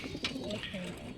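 Racing pigeons coo softly in a loft, the low throaty calls repeating in short phrases against a steady background hum.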